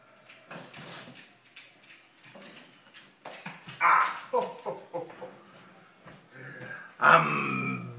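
A dog indoors gives a few soft whimpers and then louder barks, interspersed with household movement noises, all fairly close to the recorder.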